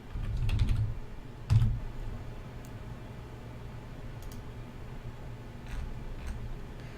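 Short bursts of keystrokes on a computer keyboard while a password is typed, a few quick clusters of clicks followed by quieter taps.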